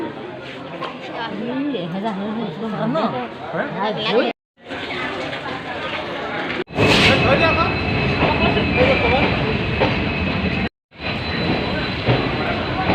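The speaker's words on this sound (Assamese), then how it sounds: "ষ্টেচনত ৰৈ আছোঁ ট্ৰেইনৰ কাৰণে।" Busy railway platform ambience: a constant hum of crowd chatter and distant machinery, with people talking nearby and a few brief breaks in sound.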